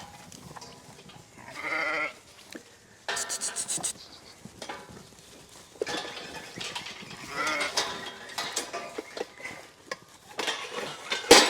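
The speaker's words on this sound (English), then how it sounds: "Sheep wrestling. Wrestling sheep, George." Sheep bleating loudly in repeated bursts while being caught for drenching on a farm, with scuffling, clattering handling noises between calls and close, uneven loudness.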